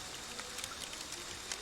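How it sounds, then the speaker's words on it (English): Calm rain falls steadily, a soft, even hiss with faint scattered patters, quiet and continuous. "Silently listen to the calm rain."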